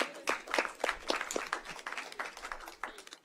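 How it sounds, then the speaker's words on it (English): People at a city board meeting give a round of applause, scattered and moderately quiet, with individual claps standing out in an uneven patter. "Give them a round of applause."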